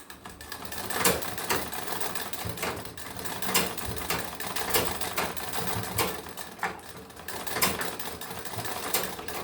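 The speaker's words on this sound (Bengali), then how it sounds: "একটা চাপ সেলাই মারি আগে" A sewing machine running a line of stitches on fabric, a fast, steady mechanical clatter with rhythmic pulses, close and fairly loud throughout.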